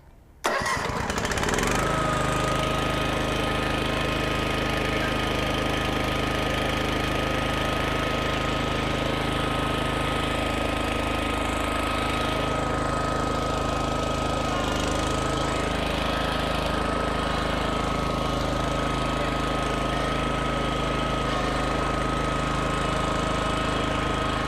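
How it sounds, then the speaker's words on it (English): A tank dolly's engine starts and runs steadily, loud and close, with a constant mechanical drone while its transmission hydraulics raise the power unit end of a tank. "we're going to start up the tank dolly, and we're going to use the hydraulics that are provided in that transmission"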